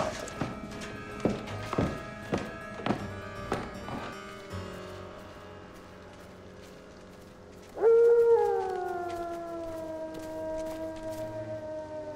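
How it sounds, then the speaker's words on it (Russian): A dog howls in long, drawn-out wavering tones, following a series of sharp taps and knocks, with a sustained droning background. "Это ваша собака воет?"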